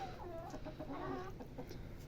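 Several hens cluck softly in short, overlapping calls, faint and a little distant over a steady background hum.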